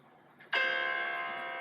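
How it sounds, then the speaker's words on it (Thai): Music from a computer starts abruptly after a brief quiet lead-in, a sustained tonal sound with steady harmonics playing at moderate level, no talking. "ตอนนี้เดี๋ยวเพลงมันจะเล่นอัตโนมัติเอง"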